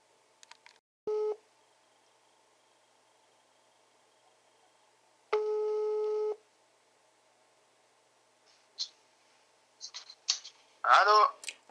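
A telephone call tone sounds in two separate beeps, a short one and then a longer one lasting about a second, clear and close in a quiet room, followed by faint handling noises and brief bits of talk.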